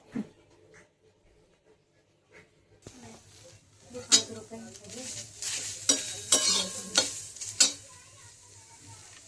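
Spices for chicken curry are roasted in a pan: after a quiet start, a sizzle builds and metal scrapes and clacks as they are stirred, near and fairly loud, with a voice occasionally in the background.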